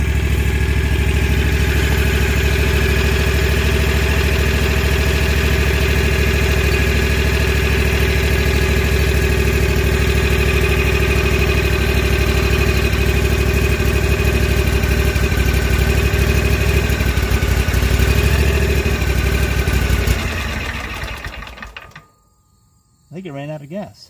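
A Wright Stander mower engine runs steadily and loud at close range for about twenty seconds, then sputters and dies as it runs out of gas, leaving near silence with a faint knock at the end.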